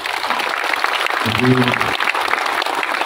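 An audience applauds with dense, steady clapping throughout, while a voice briefly speaks over it in the middle.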